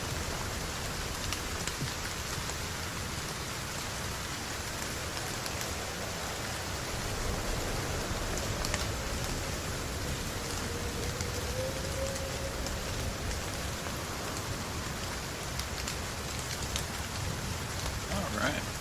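Steady rain falling, a dense even patter with no pauses, continuous and fairly close.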